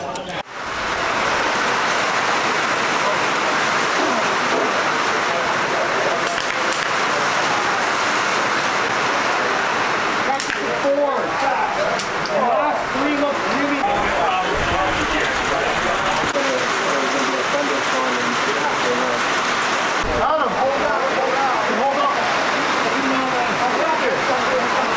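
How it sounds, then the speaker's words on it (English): Heavy, monsoon-like rain pours steadily at an outdoor rimfire shooting range match, a dense continuous hiss that lasts throughout. "As you can tell, the rain is hitting us. It's basically a monsoon. You can hear the rain."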